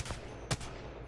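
A few quiet gunshots from the video game Apex Legends, one sharper crack standing out among faint, scattered shots, with no voices.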